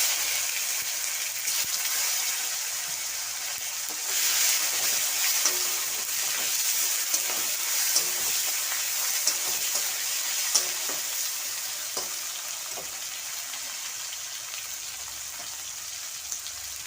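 Tomatoes frying with cumin in a pan for a pointed gourd dish, giving a steady, dense sizzle and hiss with occasional stirring scrapes throughout.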